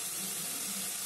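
Water pouring from a tap-like stream into masala in a pan, a brief, loud, steady rush lasting about a second, close up with no voices.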